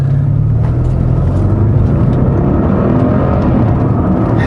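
A 2014 Audi RS6 pulls under part throttle, producing a loud, close, deep and steady exhaust rumble with a continuous low drone and no talking over it.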